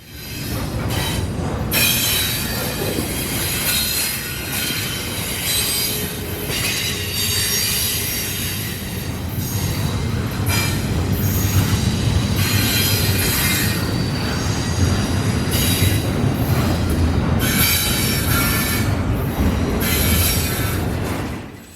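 A train rolls past on the KNO line, its wheels squealing steadily over the rails with rumbling railcar noise, loud and close throughout with brief clickety-clack accents and no voices.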